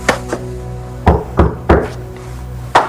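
Knocking at a door, a few sharp solid thumps spaced irregularly, close and moderately loud over a quiet background with no talk.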